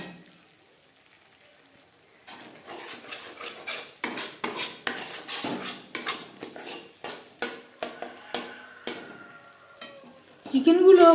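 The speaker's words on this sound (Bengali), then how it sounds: "গ্যাসের ফ্লেমটাকে লোতে রেখে 2-3 মিনিট একটু নাড়াচাড়া করে দেবো" Chicken chaap masala being stirred on a low gas flame, a quiet start giving way to repeated metal spatula scrapes and clinks against the pan over a soft sizzle, with a brief louder burst at the end.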